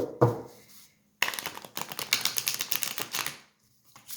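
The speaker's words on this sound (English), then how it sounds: "I love shuffling this deck." Crisp, rapid riffling of stiff tarot cards, a short flutter followed after a pause by a longer run of quick clicking snaps, close and fairly loud, no voices.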